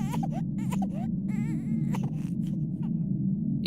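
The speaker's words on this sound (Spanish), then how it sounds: "Se trataba del llanto de un bebé." A baby's wailing cry, used as a horror story sound effect, rises in several quavering sobs over a constant low droning background, close and clear.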